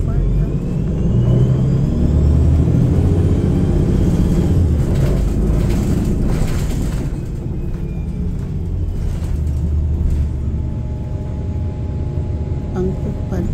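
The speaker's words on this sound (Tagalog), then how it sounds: "lumalabas na yung car galing sa car wash guys" A car rolls out of a car wash in downtown San Mateo, California, with a steady engine and road rumble heard from a nearby vehicle that swells and eases, under occasional talk.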